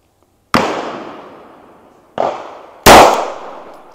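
Three loud, close gunshots from an AKS-74U Krinkov rifle at an outdoor gun range, each a sharp crack that decays into a long echoing tail, the last one the loudest.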